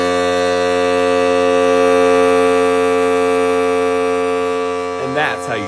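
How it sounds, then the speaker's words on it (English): A homemade balloon air horn blown with one long, loud, steady buzzing honk that holds for about five seconds, followed by a brief voice at the end. "Today, we're building a DIY air horn."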